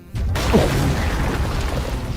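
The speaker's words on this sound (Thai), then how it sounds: "ระเบิดกันระนาบเลยครับ" A time bomb explodes in the video game GTA V with a sudden loud boom, followed by a long, heavy rumbling roar that keeps going to the end.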